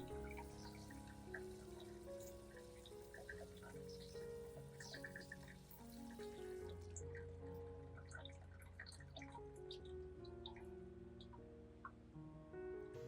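Water runs and drips while rinsing the roots of an orchid plant, a soft, continuous trickle with scattered droplets, heard alone over a quiet background of steady tones.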